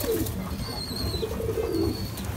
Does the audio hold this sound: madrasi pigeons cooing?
yes